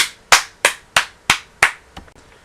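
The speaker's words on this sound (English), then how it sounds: "I think I'm going to just give him a clap for that." Five sharp, loud hand claps land in a steady, evenly spaced rhythm, each close and crisp with a short ring-out, followed by a softer, quicker sixth clap.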